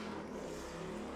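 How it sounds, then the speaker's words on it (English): Cars outside driving and revving on a sunny day: a continuous distant engine roar with a steady hum, faint and muffled as if heard through a window. "you can hear all the cars going absolutely mad"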